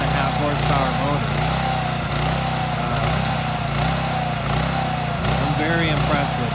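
Portable mini backhoe with a 9.5 horsepower motor and little hydraulic pump running, a loud steady small-engine drone with throbbing low hum and rising hydraulic whine, close and continuous.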